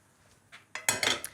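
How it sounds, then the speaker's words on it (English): Food mixture scraped from a warm pan into a blender for a ham hock and spinach sauce, heard as a few close metallic clinks and scrapes of utensil against cookware, building into a brief cluster of clatter. "So just scrape the pan."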